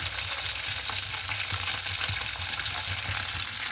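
Paneer pieces frying in a pan give a steady, dense sizzle with a light crackle that runs evenly throughout, close up and with no voices.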